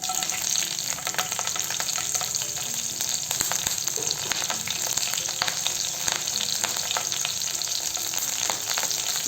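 Green chillies fry in hot oil in a pan, giving a loud, continuous crackling sizzle with dense spitting pops throughout, close and unbroken by speech.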